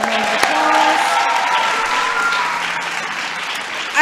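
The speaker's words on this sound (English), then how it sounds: "Let's give them a round of applause." Audience applause at a White House event celebrating African American women and dance, a steady, dense clapping that stays full for the whole stretch, with a faint voice beneath it.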